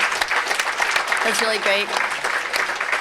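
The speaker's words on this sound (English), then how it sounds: "round of applause, please, for Vince for coming from Maui." Applause for a guest speaker at a natural farming symposium, a steady wash of clapping with a voice speaking over it midway.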